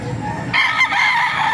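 A rooster crows loud and close at an open-air chicken market in Baliuag, Bulacan, one sustained crow starting after a brief murmur of background noise.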